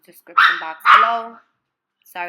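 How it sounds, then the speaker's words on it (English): A dog gives two loud barks close by, followed by a person speaking briefly at the end. "that's my dog"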